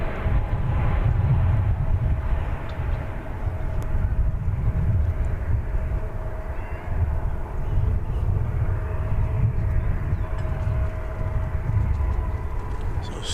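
A Fiji Airways heavy jet, a flight from Haneda, comes in on final approach to DFW Airport, with a continuous low engine roar that rises and falls gently across the stretch.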